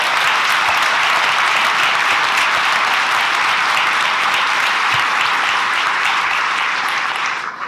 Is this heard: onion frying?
no